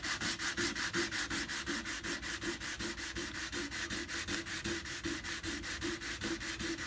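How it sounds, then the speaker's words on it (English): Wooden part for a cigar box guitar being sanded and polished smooth by hand, a fast, even rhythm of rasping strokes that repeats close up for about seven seconds with no talking. "I just basically polish them so that they're nice and round and smooth"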